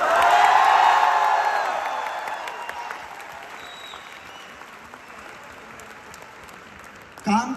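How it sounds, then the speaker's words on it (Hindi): Loud applause from an audience at a Forever Living Products success event for Mr Krishna Arora. The clapping bursts in strongly with a few cheers, then thins and tapers into a softer, scattered patter. "एक बार बहुत जोरदार तालियां मिस्टर कृष्णा अरोड़ा के लिए"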